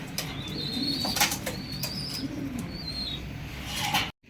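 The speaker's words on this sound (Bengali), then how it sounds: "আর আরও কিছু কবুতর আছে সেগুলো দেবো" Teddy pigeons, including Sakhi, Mianwali and Omani types kept for sale, coo softly under a constant background hum, with sharp bursts of wing flapping and a few quick rustles scattered through the clip.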